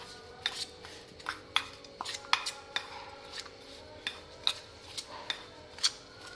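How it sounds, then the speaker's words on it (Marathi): Spice masala and a spoonful of oil being mixed in a bowl, meant for coating seven or eight stuffed brinjals: a steady run of sharp metallic spoon clinks and scrapes against the bowl, close and moderately loud, with no talking. "आणि हे सगळं व्यवस्थित आता मिक्स करून घेऊया."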